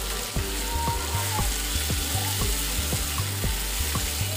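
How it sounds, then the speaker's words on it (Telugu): Tomato and green chilli pieces fry in hot oil with a loud, steady sizzle. A spatula stirs them in a regular rhythm of scraping strokes about twice a second, close by. "ఇవి ఇలా బాగా వేగాక టమాటో ముక్కలు, పచ్చిమిర్చి ముక్కలు వేసి బాగా కలుపుకోవాలి."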